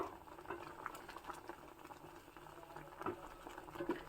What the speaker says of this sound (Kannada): ಚೆನ್ನಾಗಿ ಕುದಿಸ್ಕೋಬೇಕು